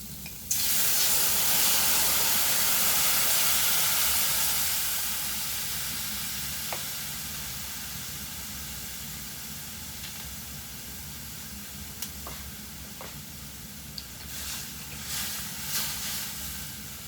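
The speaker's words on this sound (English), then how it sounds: "And I'm going to use that to what they call deglaze the pan." Wine poured into a hot pan of browned oxtails erupts in a loud, close sizzle that gradually fades to a softer hiss, with occasional scraping and stirring clicks.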